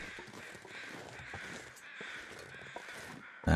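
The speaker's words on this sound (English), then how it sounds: "Goodbye, crows. Thank you for your company. You were noisy, as usual." Crows caw in a video game, a noisy overlapping chorus of harsh calls at moderate distance, ending in a sudden loud thump.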